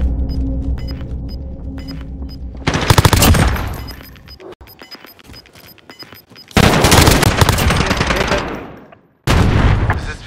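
Heavy gunfire from the Call of Duty: Modern Warfare video game comes in loud sustained bursts of rapid shots with rumbling booms, separated by quieter stretches of background battle noise.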